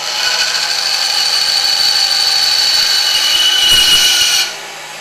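Bandsaw rough-cutting a wood piece for a woodworking build, a steady loud high-pitched whine running continuously for about four and a half seconds before it abruptly cuts off, leaving quiet room tone.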